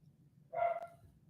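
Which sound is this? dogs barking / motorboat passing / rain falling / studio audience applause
dogs barking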